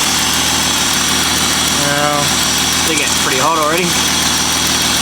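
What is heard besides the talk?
VS V6 Holden Commodore engine idling with exhaust leak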